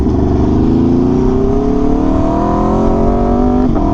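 An Aprilia RSV4 1100 Factory sport bike's engine roars steadily and loudly up close, a dense droning exhaust note with a slight pitch rise throughout.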